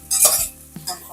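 Jackfruit pieces for biryani fry in a pan while a spoon stirs them, two quick scraping strokes over a soft sizzle, close and clear.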